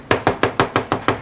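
A kitchen knife blade lifts and slams down onto a cutting board in eight rapid, evenly spaced loud chops, close up with no talking.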